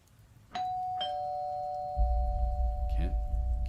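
A doorbell in an audio drama rings with two clear chime tones that sustain, followed by a low rumble and a brief voice.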